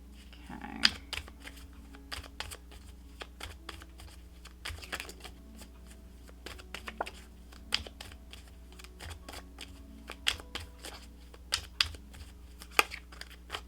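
Tarot cards are shuffled and handled in quick crisp riffles and taps, scattered irregularly over a quiet hum, close and fairly soft.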